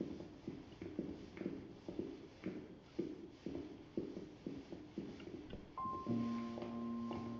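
Footsteps climb stairs in the game 1666 Amsterdam as a steady, evenly paced series of soft wooden thuds. A sustained tonal chime enters over the last seconds.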